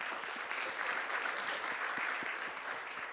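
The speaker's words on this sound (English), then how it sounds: "Can we give them one nice big round of applause again?" Conference audience gives a big round of applause for a panel of speakers, a steady, even wash of many hands clapping throughout, moderately loud with no talk over it.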